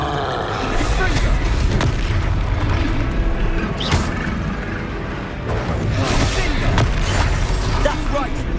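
Repeated booming blasts of the Confringo fire spell in the Hogwarts Legacy video game, heavy low rumbling impacts at intervals amid combat sounds, with voices talking over the action.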